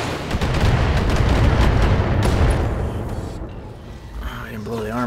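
Mech weapons fire in BattleTech as a dense, sustained barrage of booming shots and rumbling impacts over several seconds, fading toward the end as a voice begins speaking.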